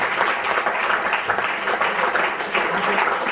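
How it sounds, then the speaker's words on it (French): Audience at a film masterclass applauding again, a steady dense clapping that holds at an even level for a few seconds with no voices over it. "Je crois que vous pouvez l'applaudir encore."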